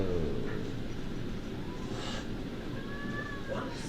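A cat in a Witcher video game gives a short meow over a steady low game-ambience rumble, fairly faint, with a couple of brief mewing calls.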